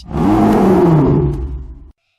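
A single deep, rumbling bison roar, loud and close, sustained for almost two seconds before cutting off abruptly.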